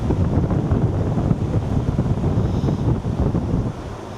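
A swamp cooler runs steadily with its water pump on in a hot garage, giving a continuous broadband whoosh of fan air and water, fairly loud and even before easing slightly at the end.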